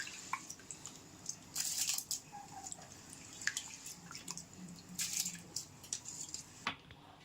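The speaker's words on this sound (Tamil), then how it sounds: "இப்போ நம்ம அரிசியும் போட்டுக்கலாம்." Rice grains tipped into a pot of water for cooking, with soft wet squishing and dripping splashes in short bursts, quiet and close with no talking.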